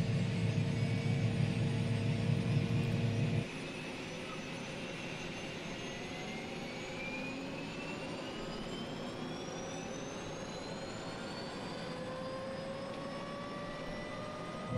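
Shrike 530F aircraft engine starting in Microsoft Flight Simulator, a steady loud turbine roar with whine rising in pitch as it spools up, continuous and close, no talking.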